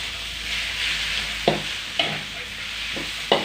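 Field rat stir-fried with chili in a pan: a steady frying sizzle runs throughout, broken by three or four sharp spatula scrapes and clacks against the pan at irregular intervals, with no talking.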